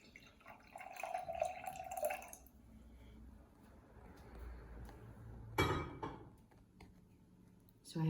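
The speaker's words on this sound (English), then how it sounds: "I'm going to pour in a little bit of my indicator in each one." Red cabbage pH indicator poured from a container into three glasses, faint trickling and liquid splashes with a light clink of glass, heard close and quiet against a soft background hum.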